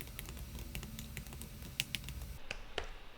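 Code being typed on a computer keyboard, a rapid run of close, crisp key clicks with an uneven rhythm over a low background hum that drops away near the end, where a few sparser taps remain.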